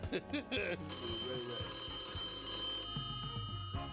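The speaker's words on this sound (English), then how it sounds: "I hope she ain't gonna answer the phone while she ringing, while it's still ringing up there." A phone rings during a call, a steady electronic ring that holds for a few seconds and then breaks off, with brief talk at the start and toward the end.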